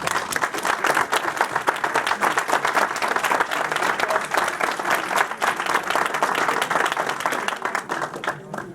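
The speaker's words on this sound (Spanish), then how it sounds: "Aplausos." An audience applauds at a doctoral thesis defense in psychology at a university, many hands clapping in a steady, full burst that holds its level and tapers slightly near the end.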